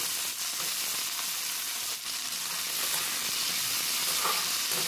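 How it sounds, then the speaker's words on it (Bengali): Green beans sizzle steadily in hot oil in a kadai, a loud, continuous frying hiss close up with faint stirring and no voices. "তেলটা ভালো করে গরম করে এর মধ্যে দিয়ে দিলাম বিনস কড়াই। বিনস কড়াইটা ভালোভাবে ভেজে নিতে হবে।"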